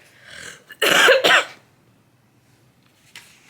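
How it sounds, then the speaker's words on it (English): A short burst of two or three hoarse coughs close up, followed by quiet and a faint breath or small sound near the end. "I'm still coughing a little bit here"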